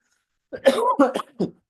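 A single close, hoarse cough followed by a couple of short throat-clearing coughs, loud and alone against silence.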